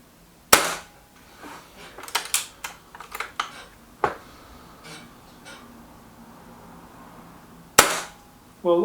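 Sharp cracks of a sub-12 ft-lbs Gamma air rifle firing slugs, a few distinct close shots spaced seconds apart with clusters of smaller clicks and handling taps between them.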